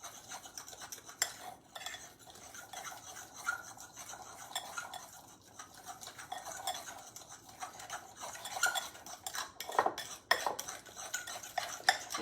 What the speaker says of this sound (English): Let me just do it with my fork